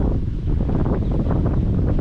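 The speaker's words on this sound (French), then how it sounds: "Puis il y a du vent et tout." Wind blowing during a boat ride in Kerala, India, roaring steadily and loudly across the microphone as a continuous low rumble with gusty buffeting, with no voices.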